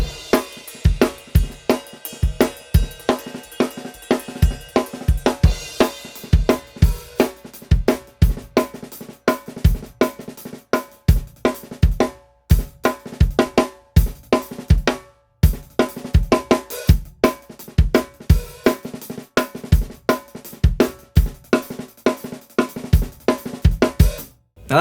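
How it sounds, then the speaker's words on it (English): Fast, steady snare drum rudiments of singles, doubles and paradiddles broken up into varied patterns, with crisp dense stick strokes and accented hits and short pauses, played up close with no talking. "practice your singles, your doubles, and then you put them together in the paradiddle."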